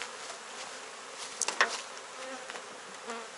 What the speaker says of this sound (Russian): Пчелы работают, носят мед, как видите, успешно носят мед.